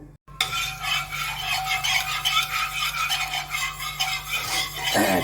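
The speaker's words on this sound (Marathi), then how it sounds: "जरा खटरम खटरम करून उलटण्याने पसरू" A metal spatula scrapes and rubs across an oiled, worn iron griddle while spreading Davangere-style dosa batter, a steady gritty scraping that runs almost unbroken for several seconds.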